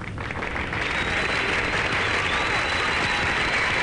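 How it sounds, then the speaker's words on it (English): A crowd claps in sustained, dense applause that holds steady and loud throughout, with no speech over it. "let's all give her a big round of applause"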